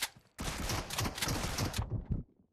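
Shotgun blasts from a DBS double-barrel shotgun in PUBG Mobile, a loud dense burst of gunfire lasting about two seconds after a short pause, ending abruptly.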